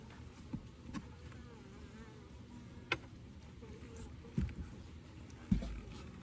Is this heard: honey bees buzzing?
yes